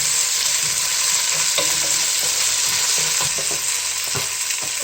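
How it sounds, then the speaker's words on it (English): Habanero pepper and green chili frying and being stirred in a pan for coconut rice, a steady close sizzle with scraping spoon strokes throughout, no voices. "and keep stirring."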